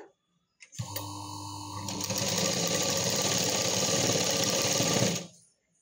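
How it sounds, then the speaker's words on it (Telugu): A sewing machine runs a reverse stitch to add an extra line of stitching while attaching sleeves to a readymade dress, a continuous close mechanical whir that starts abruptly, runs about four seconds and stops. "ఇప్పుడు దీన్ని రివర్స్ చేసి ఇంకొకటి ఎక్స్ట్రా స్టిచ్ చేస్తున్నా."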